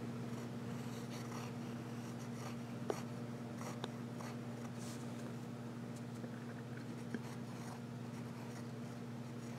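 An extra fine nib pen scratches across paper in short strokes, faint and close, over a constant low electrical hum.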